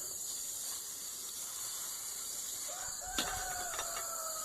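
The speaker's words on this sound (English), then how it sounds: "I don't know if you can hear the chickens back there." Chickens crow and cackle in the distance over a steady hiss of background noise, a few short calls rising near the end.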